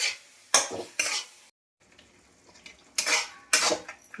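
Chicken for chicken pup is stirred in a metal pot, with sharp scraping and clanking strokes of a spoon, two quick bursts, a brief silent gap, then two more close, loud strokes. No one speaks.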